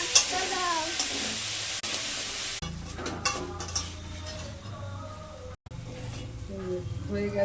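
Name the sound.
sago pearls frying with turmeric, sugar, spices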